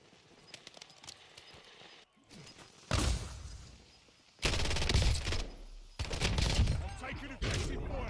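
Call of Duty Black Ops 6 Warzone gunfire erupts in loud, dense bursts after quieter rustling and footsteps, the automatic shots rattling continuously through the later seconds.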